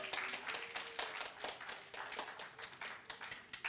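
A church congregation claps together to acclaim the Lord, with quick, dense, irregular hand claps sounding continuously and fairly close, and a faint sustained tone running low beneath them.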